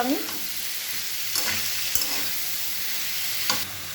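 Pumpkin, potato, onion, tomato and chili sauté in a pan, a soft, steady sizzle broken by a few brief scraping stirs.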